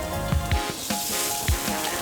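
Liver sizzles steadily on a grill with a close, continuous hiss and crackle, broken by occasional soft pops and scrapes, and no one speaks.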